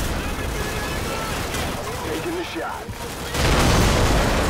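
Gunfire from Call of Duty 4: Modern Warfare, heard as a dense, steady crackle of game battle noise that swells louder near the end.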